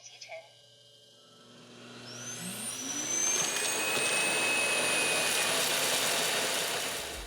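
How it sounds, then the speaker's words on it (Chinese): The Roborock S7 MaxV Ultra dock auto-empties the robot vacuum's dustbin, a loud rising whoosh and motor roar that swells after a quiet start and holds steady close by. "跟所有的扫地机一样，它清空的声音还是挺大的"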